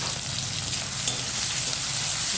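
Chopped onions fry in a pan of hot oil, a close, continuous crackling sizzle that stays dense and even throughout.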